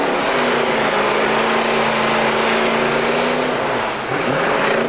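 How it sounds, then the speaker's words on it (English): Drag race cars at a 2003 Norwalk racing event idle and rumble loudly at the line, a constant heavy engine drone with a slight pitch shift near the end, filling the whole stretch without any talk. "Two beautiful cars coming up here."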